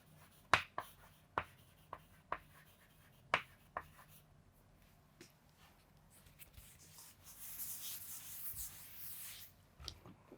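Chalk or marker writing on a board makes sharp taps and clicks spaced irregularly over a quiet room, followed by softer scratchy strokes and rustling later on.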